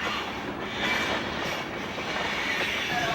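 Train rolling along rails, a steady close rumble with metallic wheel noise and faint squeal, continuous and even for the whole stretch with no voices.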